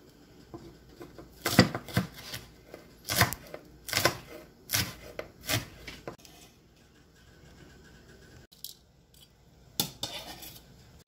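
Small siling labuyo chili peppers chopped on a board for lechon sisig: bursts of quick knife taps in clustered runs, crisp and close, with pauses between, then a few final chops.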